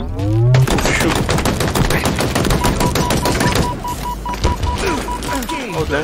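Rapid automatic gunfire in Halo Infinite multiplayer, a long, loud, close stream of fast shots that breaks into shorter bursts, while players talk over it.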